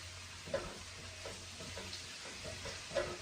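Chorizo sausage cooks in a pan, giving a steady close sizzle and frying crackle with a couple of soft stirring knocks, and no talking.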